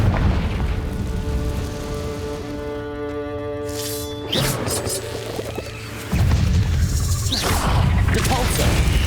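A Confringo fire spell goes off in Hogwarts Legacy on Nintendo Switch as a booming blast with crashing impacts, set over constant game music and effects.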